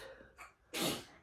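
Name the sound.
sneeze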